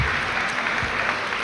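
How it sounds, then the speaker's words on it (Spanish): A church congregation applauding during a sermon, a dense, loud, continuous wash of many hands clapping together with no clear voices over it. "¿Qué tal si le da un aplauso a Dios por eso?"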